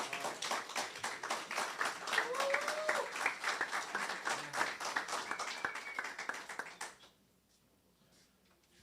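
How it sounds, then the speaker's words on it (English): An audience at a live-streamed candidate event applauds with dense, continuous clapping for about seven seconds before it abruptly cuts to near silence. "Let's give her a big round of applause"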